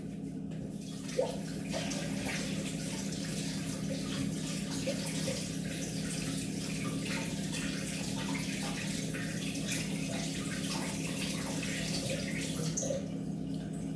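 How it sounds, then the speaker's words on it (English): Steady running water from a kitchen tap as hands are washed after bread making, a continuous rushing hiss with a light splash near the start, close and constant throughout. "Let me just go wash my hands really quick."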